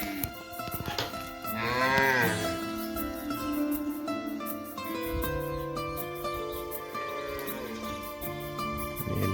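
Cattle in a Gond tribal village at early morning give drawn-out moos at close range, several calls overlapping with other low animal sounds and a busy rural background, with no one speaking.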